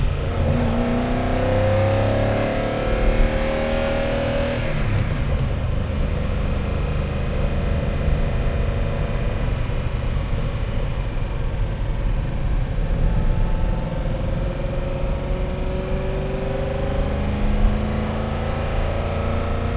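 A Lamborghini Urraco P250 engine runs loud and close for about twenty seconds, its pitch rising and falling through revs in the opening seconds before settling into a steadier, throbbing idle.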